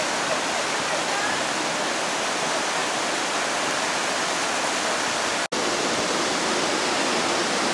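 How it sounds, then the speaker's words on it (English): Waterfall at Blakely Falls on Halls Creek, a loud, steady broadband roar of falling water filling the whole stretch, with one sharp momentary dropout near the end. "We're headed up to the falls."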